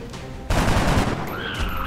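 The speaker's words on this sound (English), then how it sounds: "This is a reaction shot, as it were." A sudden burst of rapid gunfire erupts in XCOM as a soldier takes a reaction shot, a loud rattling volley starting abruptly after a quiet moment and continuing for over a second.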